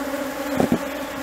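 Honey bees buzz densely around a crowded hive box, a continuous near drone with a couple of brief louder swells as bees pass close.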